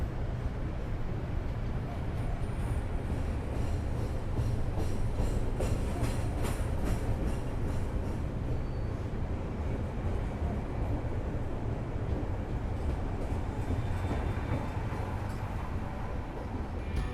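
The Parahyangan passenger train rolls steadily along the rails, a constant rumbling hum with faint rhythmic clacks, heard from inside the carriage.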